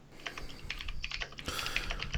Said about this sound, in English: I can definitely hear Ryan typing